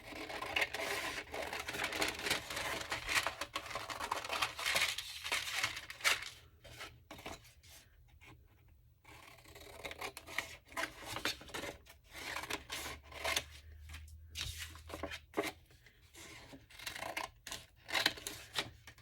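Scissors snip and rasp through paper tags for a recycled shaker tag craft, a steady run of close, crisp cuts with brief pauses and no talking.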